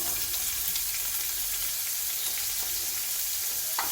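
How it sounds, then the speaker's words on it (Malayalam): Onions frying in oil in a pan with mustard seeds, making a steady, close sizzle that holds for the whole stretch, with a few faint clicks and a brief scrape near the end and no voices. "കുറച്ച് സവാള ഇട്ട് കൊടുക്കാം"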